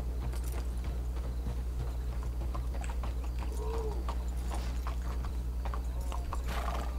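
Horses in the video game Red Dead Redemption 2, with close, steady hoof clip-clops walking near a graveyard, a brief whinny in the middle, and faint birds in the background.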